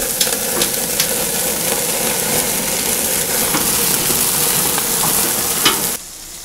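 Traditional Iranian food cooking on a grill in northern Iran, with a steady loud sizzle and crackle of fat and occasional pops, which cuts off abruptly near the end.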